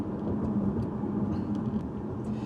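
A 2020 Toyota Camry TRD's engine hums steadily at a moderate, fairly distant level through a manual upshift into fourth gear, with no voices heard.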